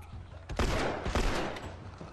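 Gunfire rings out in The Last of Us video game: two quick bursts of shots, fairly faint, over a low background rumble.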